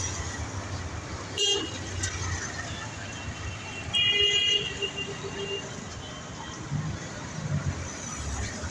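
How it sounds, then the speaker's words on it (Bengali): Jammed Dhaka street beside Jamuna Future Park, a steady roar of traffic with several short car horn toots and a longer honk midway, with a voice in the background. "রাস্তায় প্রচুর জ্যাম।"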